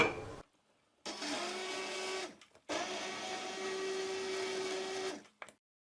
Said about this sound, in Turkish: Sebzelerim pişmiş. Blender'dan geçireceğim.